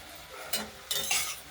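A utensil stirs fried cauliflower in a pan with lid just removed, giving a couple of quick scraping clinks over soft steady sizzling, close and clear.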